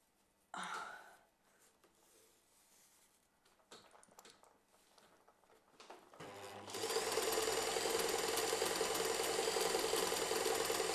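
A sewing machine stitches around the armhole of a garment, running loud and steady with a dense whir after a few quieter handling noises and taps beforehand.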